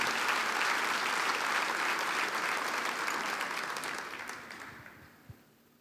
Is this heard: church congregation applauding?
yes